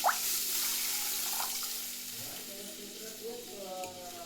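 Water poured into hot ghee-roasted semolina in a pan sets off a loud, steady hiss and sizzle close by, with a quick splash at the start and bubbling that gradually settles.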